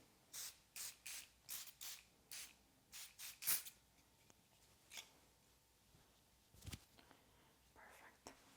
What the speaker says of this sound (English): I will spray your hair with the thermal water.